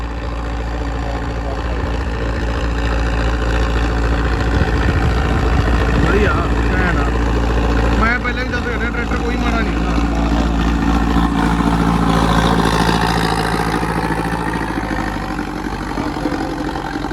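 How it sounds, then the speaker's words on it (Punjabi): A Sonalika Tiger tractor engine runs steadily and loudly throughout, a low rumbling idle with some shifting tones layered over it. "ਕਿਹੜਾ ਟਰੈਕਟਰ ਹੈ ਟਾਈਗਰ"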